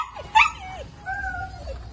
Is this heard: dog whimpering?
yes